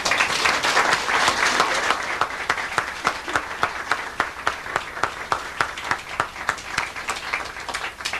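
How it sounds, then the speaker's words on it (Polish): Audience applause at a stage performance of songs and poems, honoring Mira Zimińska; a steady, even round of clapping that starts full and settles into a regular, slightly thinning patter. "i tu jeszcze raz specjalne brawa"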